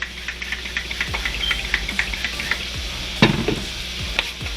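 Ground beef browning in a buttered pan, a continuous crackling sizzle with repeated spatula scrapes and stirring clatter, one sharper knock partway through.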